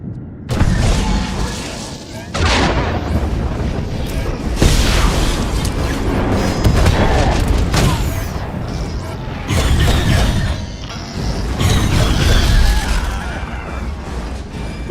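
Missile explosions in Star Wars: The Old Republic, Knights of the Fallen Empire, burst as a dense run of heavy booms and crashes layered over steady battle noise, loud and continuous throughout.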